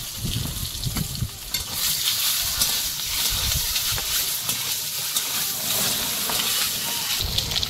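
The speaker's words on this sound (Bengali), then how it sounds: "ডিমটা হালকা করে ভেজে নিয়েছি" An egg fries in oil seasoned with turmeric and salt, giving a loud, continuous sizzle and hiss with stirring scrapes throughout.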